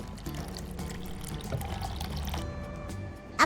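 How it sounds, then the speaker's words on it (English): Water poured from a plastic pitcher into a cooking pot in a home kitchen, a close steady splashing stream that runs continuously and ends with a brief knock. "Then clumsily carried the water over to pour it into the pot."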